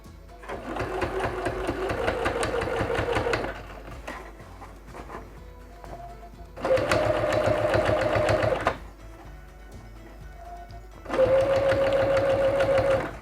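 Sewing machine stitching bias tape onto homemade slippers in three bursts of rapid mechanical whirring and clatter, separated by quieter pauses where the motor idles and fabric is handled.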